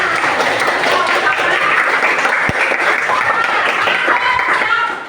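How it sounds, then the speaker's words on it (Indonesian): Dense, loud applause from a group fills the whole stretch, a continuous wash of many hands clapping close by, with voices talking through it. "bagus, tepuk tangan."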